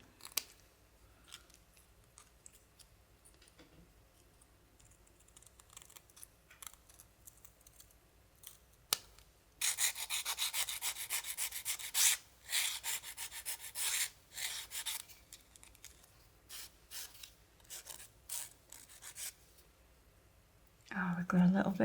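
A file rasps back and forth, trimming the edges of a homemade nail file keyring in bursts of scratchy strokes after a quiet stretch, with a brief louder knock at the end.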